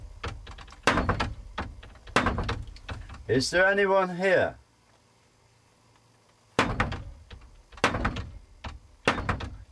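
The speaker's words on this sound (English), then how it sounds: "you're not allowed in here until you knock on the door 3 times" Sharp knocks rap on a door at the Ancient Ram Inn, coming in spaced groups with crisp, close thuds. A voice calls out once between them, followed by silence before more knocking.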